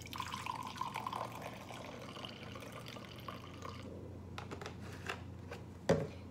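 Half a cup of hydrogen peroxide pours for a homemade stain remover, a soft, close trickle of liquid running for several seconds, then easing off into faint drips and a small knock near the end.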